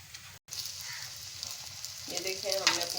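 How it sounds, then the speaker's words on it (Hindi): Egg and potato balls sizzle in hot oil in a home kitchen, a steady close crackle that grows busier as more balls go in, with a faint hum underneath and no talking. "ऑयल हमारा तकरीबन गर्म हो चुका है। इसको ऑयल में डालेंगे।"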